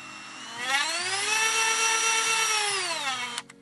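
A cordless battery-powered rotary multitool spins up to a high, steady whine with strong harmonic tones, holds for about three seconds, then winds down abruptly.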